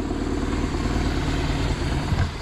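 A BMW R1100GS motorcycle idles steadily at about 1100 RPM with no throttle, a close, even low rumble heard alone throughout.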